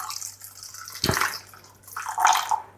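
Boiled water poured into a pot of porridge oats in two short splashy pours, close and fairly loud, with a brief pause between them.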